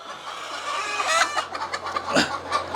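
Desi hen on a farm clucking just after laying eggs, a steady run of close, fairly loud clucks and squawks with other chicken sounds around and no speech.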